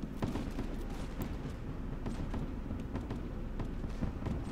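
Musket volley fire in the Mount & Blade Warband L'aigle mod, with scattered, overlapping shots crackling over a dense, steady battle din and no voices.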